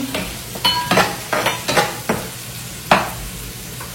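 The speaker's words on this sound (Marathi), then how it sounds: "कांदा ना आपल्याला मस्त फ्राय करून घ्यायचा आहे" Onions fry in a pan while being stirred, with a series of irregular scraping strokes over a soft background sizzle, close up and with no voices.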